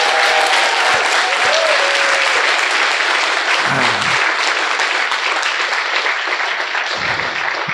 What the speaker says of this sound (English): give like a thunderous round of applause for the directors of these schools